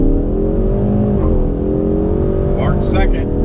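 A 2019 Ford Mustang with the 2.3 EcoBoost engine accelerates hard, heard from inside the car as a loud, steady engine drone that climbs in pitch with a brief dip at a gear change. Short bits of voice come near the end.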